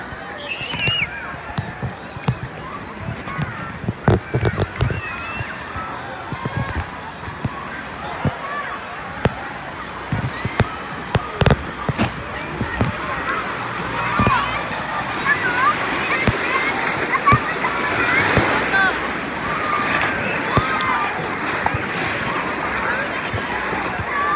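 Water splashing and sloshing at a crowded outdoor wave pool, a steady wash of splashes with scattered sharper splats, mixed with background crowd voices and nearby talk.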